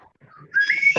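A hot dog-shaped novelty whistle gives a bright, shrill toot lasting about half a second, loud and close, after a quiet lead-in.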